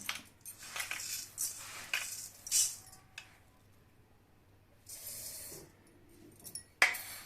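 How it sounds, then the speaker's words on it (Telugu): Rice grains dry-roasting in a kadai for homemade baby cereal powder, heard as intermittent scraping rattles and light clinks as the grains are stirred, with quiet gaps between bursts and no talking. "పావుసేర్లు కడాయిలో పోసుకొని వేయించుకుంటున్నాను"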